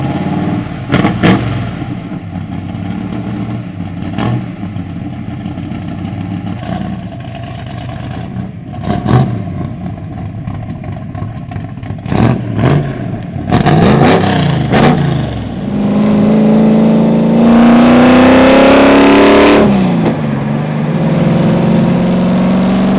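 A NASCAR-inspired 1963 Ford Fairlane engine revs and accelerates hard on a cruise, a loud, raw, continuous roar with rising pitch sweeps and throttle blips, strongest near the end.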